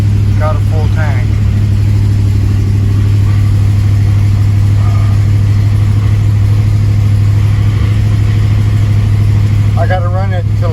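A 1970 Buick LeSabre's cold engine idles with a steady, low hum throughout, with someone speaking briefly at the start and again near the end.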